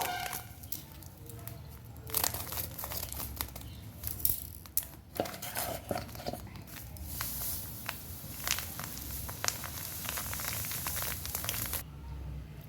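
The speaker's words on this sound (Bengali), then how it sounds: "সুজির প্যাকেটটা কেটে নেব" A plastic packet of semolina is cut open for chitoi pitha, with crisp crinkling, rustling and sharp clicks of plastic handled up close, coming in bursts over several seconds.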